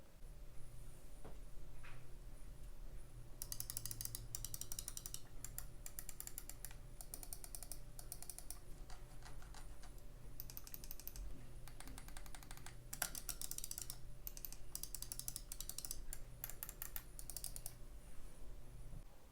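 Crisp clicks from a Razer Viper Mini gaming mouse come in irregular rapid bursts, close and fairly quiet over a low steady hum, with brief pauses between clusters.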